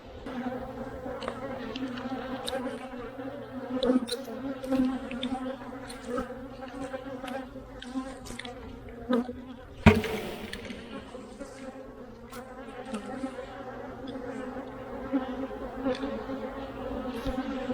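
Honey bees buzz around a hive frame during a hive inspection, a steady close drone with individual bees flying past the microphone and one brief knock partway through, with no talking.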